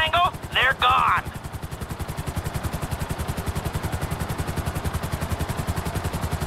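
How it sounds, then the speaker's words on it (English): In the video game GTA 5, a helicopter's rotor thumps in a steady, loud, rapid chop that runs through the whole stretch, with a brief shouted voice near the start. "I see three choppers!"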